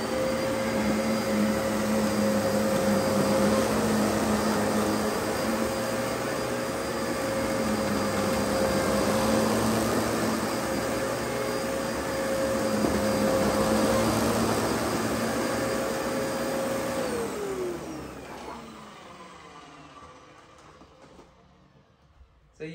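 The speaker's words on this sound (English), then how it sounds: "So now let's vacuum this up." A Dyson DC14 or DC07 upright vacuum cleaner running on carpet, a loud, steady motor whine with tonal hum that holds for a long stretch, then winds down as the machine is switched off near the end.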